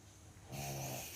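A dog snoring, starting about halfway through as a steady low rasping drone with a rough nasal edge, close and moderately loud, with no talking.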